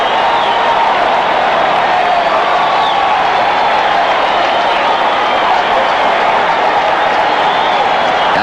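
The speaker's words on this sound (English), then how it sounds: "So here goes the crowd again." Baseball stadium crowd at a 1984 Reds versus Mets opening day game roars and cheers continuously, a dense, loud wash of applause and shouting with no break.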